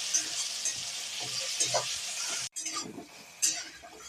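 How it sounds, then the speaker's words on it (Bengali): Ginger paste and tomato frying in a pan while being stirred, a steady sizzle broken by scraping strokes and a brief cut midway, no voices. "একটু নাড়ি চাড়িয়ে নেবো।"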